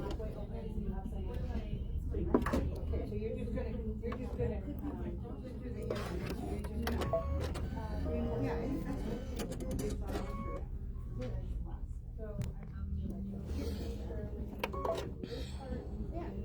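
An embroidery machine stitches a ghost bookmark shape, a steady mechanical whirring with rapid rhythmic needle clatter running continuously under a background of muffled talk.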